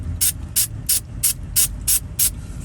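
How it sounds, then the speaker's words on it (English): An SEM texture coating spray can puffs onto an Infiniti QX60 leather seat in seven short, evenly spaced bursts of hiss, close and crisp with brief gaps between them. "always clear out your spray nozzle before you start spraying"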